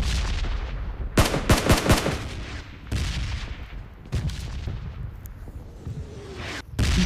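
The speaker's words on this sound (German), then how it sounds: "Ich sehe nur diese Explosion." Explosions and bursts of gunfire from the mobile battle royale game PUBG Mobile crack out in loud clusters, with rapid volleys and heavy booms spaced irregularly across the stretch.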